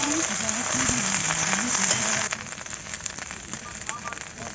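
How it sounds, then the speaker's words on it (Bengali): Okra fries in oil in a wok, producing a loud, close, steady sizzle and crackle that eases somewhat midway, with a low voice-like hum underneath. "কড়াইতে তেল দিয়ে দিয়েছি, প্রথমে ভেজে নিব ঢ্যাঁড়সগুলো।"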